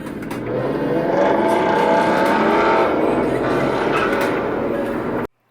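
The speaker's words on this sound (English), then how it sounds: "This guy, this motorcyclist and this other car just decided that they wanted to race." A motorcycle and a car racing each other on a public road, a loud sustained engine roar passing close by and holding for several seconds before cutting off abruptly, with voices mixed in underneath.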